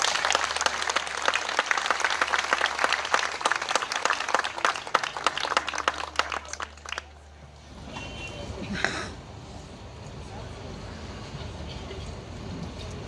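An audience at a Turkish poetry event claps steadily and loudly for about seven seconds, then the applause stops abruptly and leaves quiet room noise with a few faint bumps.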